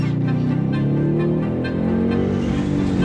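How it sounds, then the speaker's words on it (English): A car engine drones steadily with a low, rising tone and a rumbly exhaust burble on the upshift running throughout, loud and close. "is so good, and you get a nice little burble on the upshift"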